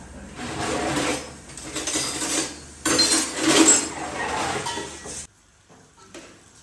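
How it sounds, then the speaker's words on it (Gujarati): Broken wheat lapsi is stirred and roasted in hot ghee in a pot, with bursts of scraping and metallic clatter from the spoon against the pot in uneven strokes, then a quieter stretch. "અત્યારે હું ફાડા લાપસી શેકી રહી છું"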